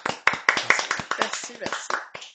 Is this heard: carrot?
no